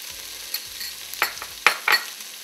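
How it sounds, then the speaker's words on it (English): Onions sauté in a pan for vegetable puff filling, a low sizzle under a few sharp scraping stirs of a utensil against the pan, close and moderately loud. "The onions are sauteing really nicely."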